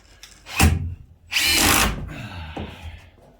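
Power drill driving countersunk screws into wood inside a converted school bus while pressing hard: two loud close whirring bursts, the second longer and grinding, then a fainter short run.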